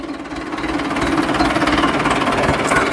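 A 2012 Arjun 605 diesel tractor engine runs loud and close, a steady rough chugging rumble that builds slightly and holds.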